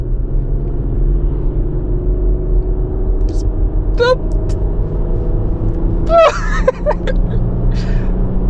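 An Infiniti FX35 with a 3.5-litre engine accelerating, heard from inside as a steady, loud, deep engine rumble, with brief voices and laughter rising over it partway through.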